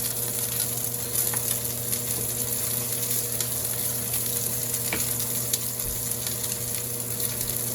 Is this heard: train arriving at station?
no